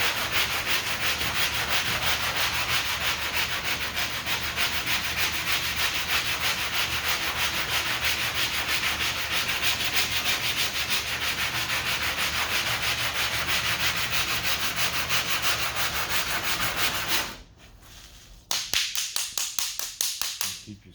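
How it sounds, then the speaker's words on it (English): Sandpaper rubs rapidly back and forth over a repaired car body dent, a steady rasping scrub that runs continuously, then stops briefly and resumes in short strokes, close and loud. "Keep your sandpaper clean."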